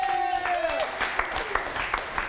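A studio audience at a local TV talk show claps for the director's birthday, a short burst of scattered, fairly close applause that thins out within about two seconds.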